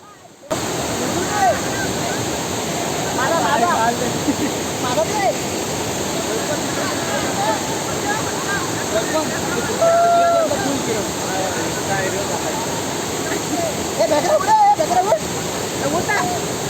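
The Savatkada waterfall roars in a loud, constant wash close by, with faint voices and brief calls rising over it now and then.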